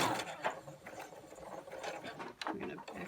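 Quiet, uneven clicking and whirring from a sewing machine finishing a seam on a cloth face mask, the short bursts close by and faint.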